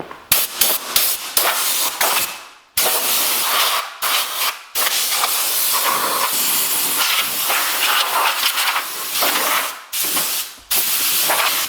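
Compressed air blasts from an air tank on a farm, loud hissing bursts that start and stop repeatedly, some short and choppy, others long and sustained, with brief silent gaps between them.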